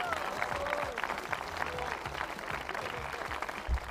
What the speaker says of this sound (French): j'aimerais que tout le monde l'applaudisse pour lui souhaiter une joyeuse retraite.